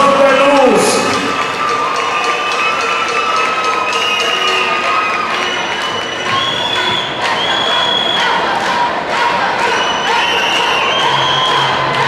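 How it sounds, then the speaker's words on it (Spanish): A crowd at a men's salsa dance performance cheers and shouts loudly, with whistles, children's yells and scattered clapping in a busy, sustained roar, while music and voices run beneath. "¡Fuerte el aplauso!"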